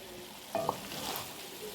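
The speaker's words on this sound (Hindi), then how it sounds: "मैं सिर्फ कसूरी मेथी डाल रही हूँ और मैं इसकी भुनाई करूँगी 2 मिनट" Cauliflower with dried fenugreek leaves fries in a pan with a soft, steady sizzle, near and fairly quiet, broken by a brief spoon-on-pan clink.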